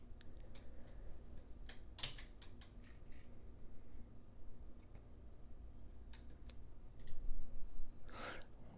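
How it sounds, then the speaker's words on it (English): Scattered computer mouse clicks, some single and some in quick pairs, come close and fairly quiet over a low room hum. "Clicked it again."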